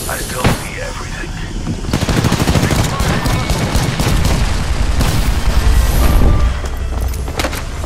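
Gunfire rattles in a video game, broken by a heavy grenade blast with a deep low boom and a long rumbling tail, loud and close under continuous shooting noise.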